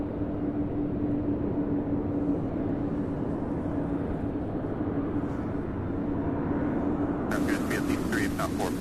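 An aircraft arriving from Portland, Oregon at Louisville airport gives off a steady, distant engine drone with a low hum, before a person starts talking near the end.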